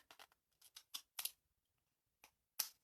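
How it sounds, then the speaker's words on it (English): Quiet, close snips of scissors cutting through card, several quick clipped cuts in short bursts separated by pauses. "I am going to grab my not sticky scissors"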